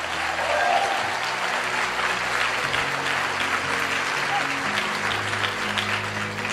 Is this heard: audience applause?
yes